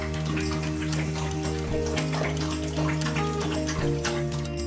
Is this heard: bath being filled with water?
yes